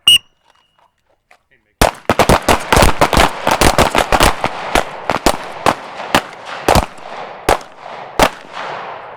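Rapid pistol gunshots crack in quick strings on an outdoor shooting range during a drill, loud and sharp, following a brief beep and near silence at the start, then spacing out into slower single shots.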